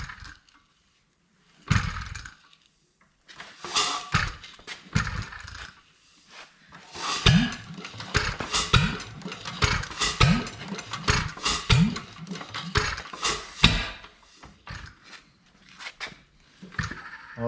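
Old stationary engine with a gravity-fed Lunkenheimer mixer sputtering to life, firing in uneven, irregular pops and bursts that gather into rough running, close and fairly loud.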